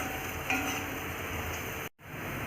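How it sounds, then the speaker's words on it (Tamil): Potato fry sizzles continuously in a pan while it is stirred, making a close, even crackle with a brief cut-out near the end. "இதே மாதிரி தொடர்ந்து கிண்டிக்கிட்டே இருக்கணும்."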